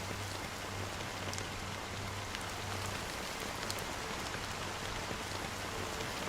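Black rain falls steadily in the video game Honkai: Star Rail, a constant soft hiss of drops with a low hum underneath and occasional closer spatters, with no voices.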